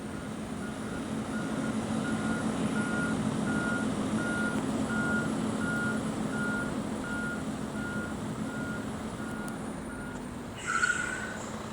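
A truck in a parking simulator game gives off a steady series of evenly spaced reversing beeps over a low engine drone, ending with a brief hiss near the end. No one speaks.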